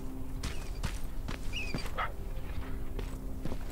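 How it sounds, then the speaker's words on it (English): A dog in the video game Terminator Resistance barks and yelps a few times over thudding in-game footsteps and impacts, with a low background hum and no talking. "There's a freaking dog in here."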